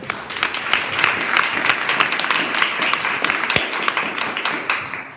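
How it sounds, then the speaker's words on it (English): Loud, dense applause from a poetry reading audience at The Paterson Museum, steady clapping filling the whole stretch before tapering slightly at the end. "Can we give them a round of applause?"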